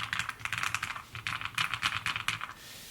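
Fast, steady typing on a low-profile mechanical keyboard, with soft, dampened keystroke clicks close up in quick irregular bursts and a short pause midway; no talking.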